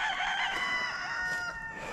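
Chickens on a farm cluck and crow, with a shrill, drawn-out crowing call standing out clearly over continuous nearby clucking and no talk.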